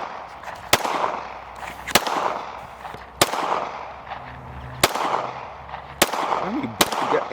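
Outdoor gunfire from handguns and rifles such as Glocks and a Draco, with six sharp, loud single shots at irregular intervals over a steady open-air background.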